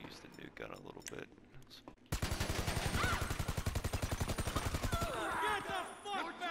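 A newly acquired gun in the video game GTA Online fires a rapid automatic burst of evenly spaced shots that lasts about three seconds, loud and close. Quieter game noise comes before it, and vocal sounds follow the burst.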